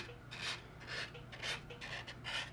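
Sanding sticks rasp across a plastic scale model kit part, working the airfoil shape in steady repeated strokes, each a close, moderately loud scratchy rub with no talking.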